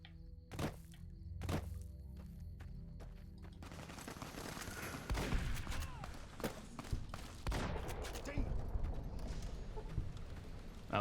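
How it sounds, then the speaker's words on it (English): Distant gunfire in the video game Fallout New Vegas crackles from over a ridge, a few sharp isolated shots early, then a dense rattling burst of rapid fire that carries on faintly with some quieter thuds. "I'm hearing some gunfire over the ridge"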